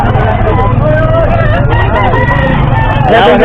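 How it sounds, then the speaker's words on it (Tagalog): Chickens and other fowl at an outdoor animal market squawk and cluck loudly and continuously, close by, with a background hubbub of people talking. "Mga ganyan na klase mga manok ni Boss Pero."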